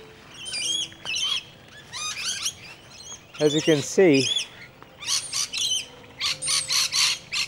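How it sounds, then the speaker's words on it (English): Many birds call and chirp at a bird sanctuary around five in the early morning, with repeated bright squawks and tweets in bursts, some close and loud, while someone talks briefly. "I have quite a few birds every morning."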